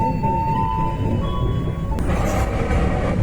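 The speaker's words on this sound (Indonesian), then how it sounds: "Bisa terdengarkan suaranya karena ini banyak pengereman." A Malabar train brakes on a mountain railway in southern Java, giving a steady loud rumble with a thin sustained squeal, then a sharp burst of brighter screech and grinding partway through.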